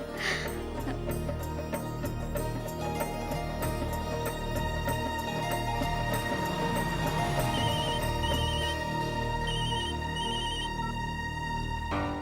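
A telephone rings repeatedly in a domestic scene, the electronic bell pattern repeating in regular bursts over a soft background bed of music, with no talking.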